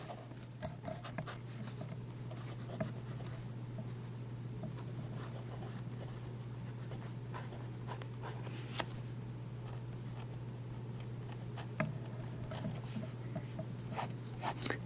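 Nib of a Hero 616 fountain pen scratching across paper, a faint, steady soft rasp with small ticks as strokes start and stop, close up under a low background hum.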